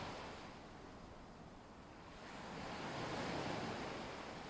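Gentle lagoon waves wash in a steady, soft surf, swelling slightly louder toward the end, with no voices.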